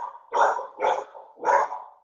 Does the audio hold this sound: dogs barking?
yes